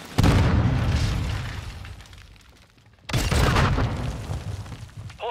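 Cluster mine detonations in Call of Duty: Modern Warfare II, two heavy booming blasts a few seconds apart, each rumbling and then slowly fading, loud and close.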